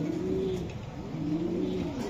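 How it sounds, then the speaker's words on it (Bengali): A grizzle pigeon of silver colouring, a down-shaped racing bird, coos in two clear rising-and-falling phrases, close and steady over a dense noisy background. "এই যে ডাউন শেপের কবুতর"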